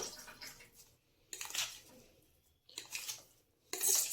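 Boiled potatoes are mashed in a bowl for samosa filling, making soft, close scraping and squishing sounds in three separate bursts with quiet pauses between them.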